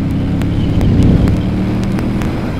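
A Ducati Monster 998 S4RS motorcycle engine pulls hard while overtaking on a country road in France, a loud, steady low drone with strong wind rush throughout.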